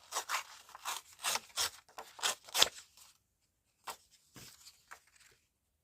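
Paper ephemera being trimmed for a journal, giving a run of short rasping cutting strokes close by for about three seconds, then a pause and a few scattered softer snips and rustles.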